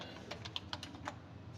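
Keys clack on a computer keyboard in quick, uneven taps, close and steady over a low room hum, with no talking.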